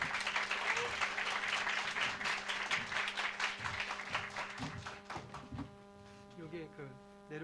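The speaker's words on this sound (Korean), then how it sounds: "환영하는 마음으로 우리 박수로 모시도록 하겠습니다" A church congregation claps to welcome a visiting pastor, a steady mass of applause over a low electrical hum, thinning to a few scattered claps near the end as a voice speaks.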